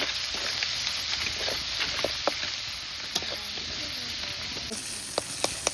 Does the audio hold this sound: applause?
no